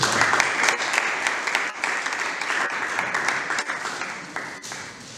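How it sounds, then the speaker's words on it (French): Sustained audience applause at a student parliament plenary session, loud at first and then easing slightly, with a few sharper claps standing out from the dense patter. "Applaudissons une fois de plus."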